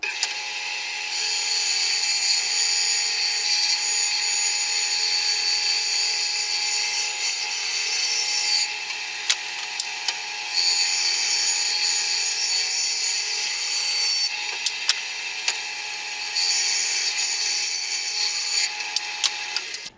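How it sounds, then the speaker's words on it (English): A bandsaw cuts scrap pieces of wood in a workshop during a van overhead cabinet build, a steady loud whine running through several cuts with brief dips between passes, no talking. "So I'm going to cut these on the bandsaw real quick"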